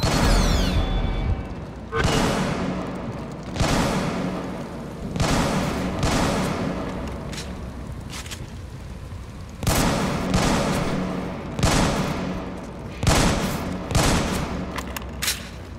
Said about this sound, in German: Schüsse kamen von da.